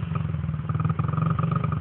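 A 2003 Honda XR50 mini dirt bike idles nearby with a steady, rapid putter and slight throttle fluctuations, running continuously without speech.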